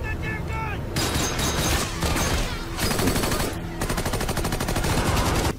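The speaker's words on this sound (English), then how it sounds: "at this point, they're just shooting everybody" Sustained rapid machine-gun bursts and rifle fire from the TV war series The Pacific, Okinawa episode, dense and loud, nearly unbroken, with a few brief pauses and voices faintly mixed in.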